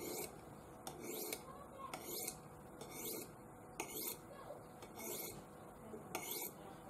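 A steel blade scrapes along a Buck Edgetek Ultra Flipstik diamond sharpening rod in a steady series of close, gritty strokes, about one per second, lightly rasping.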